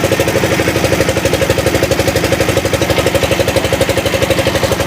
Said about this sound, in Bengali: আমাদের নৌকা স্টার্ট করেছে